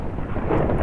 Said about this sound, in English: I just got struck by lightning!